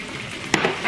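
Onions and roughly chopped tomatoes sizzle and fry in a pan for fish tikka masala, a short steady hiss with a brief sharper crackle partway through.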